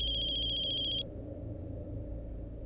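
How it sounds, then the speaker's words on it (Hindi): A phone rings with a bright, pulsing electronic trill for about a second, then cuts off, leaving a quiet low hum. "दिव्या का फोन?"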